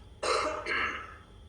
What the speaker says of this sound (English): I'm gonna cough. I'm sorry, it's gonna be loud.